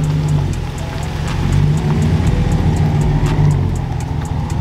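A Mopar truck engine idles and runs close by, a steady low rumble with regular pulsing ticks. The sound swells slightly midway and carries on with no talk.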